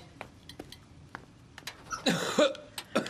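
A person gives a short, harsh cough amid soft clinks of dishes and cutlery in a quiet kitchen.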